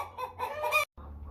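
Chickens cluck and squabble close by in a pen around a feeder, a busy overlapping chatter that breaks off briefly and then resumes.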